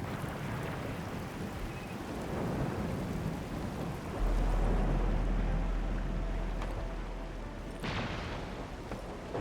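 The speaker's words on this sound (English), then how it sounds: "It's raining harder. I can't hear anything except for the rain." Heavy rain pours steadily in the PS5 game Arknights Endfield, a dense, close hiss with a deep rolling thunder rumble swelling midway and lingering, no voices over it.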